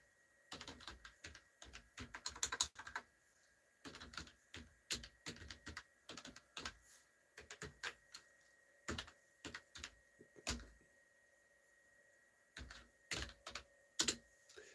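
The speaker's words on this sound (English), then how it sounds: "let me type in my email address" Quiet tapping of keys on a computer keyboard as an email address is typed, irregular clusters of close, light clicks with short pauses, alone in a quiet room.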